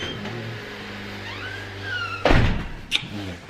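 A door is opened and shut in freezing polar vortex weather, with a heavy thunk and rattle followed by a sharper knock, heard up close over a low background hum.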